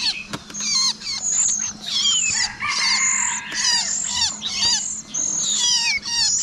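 Two nestling birds of the kind called trời than in Vietnamese give repeated shrill, rising chirps and squeaks. The calls are near and loud and come in quick bursts with short gaps.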